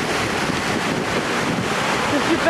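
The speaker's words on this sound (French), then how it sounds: "Regardez le courant de la rivière." A river current in Norway, near Olden, rushes as a steady, loud broadband wash with wind buffeting the microphone, continuous and close throughout, with no talking.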